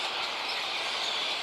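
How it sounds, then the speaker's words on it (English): Birds sing outdoors in the morning around a trailer, their dense chirping blending into a bright, steady hiss of song heard close and continuous. "started hearing birds singing the whole damn time"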